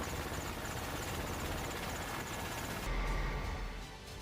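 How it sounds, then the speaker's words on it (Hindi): An HAL Prachand light combat helicopter, an Indian Air Force attack aircraft, holds a steady whirring rotor and engine drone that swells slightly near the end, moderately loud with no voices. "प्रचंड दुनिया का सबसे हल्का लड़ाकू हेलीकॉप्टर माना जाता है।"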